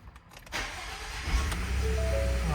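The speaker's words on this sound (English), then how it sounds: "Let's go ahead start the car." A 2020 Ford F-150 engine cranks and catches after a moment of near-quiet, then settles into a steady running rumble that grows slightly louder as it idles.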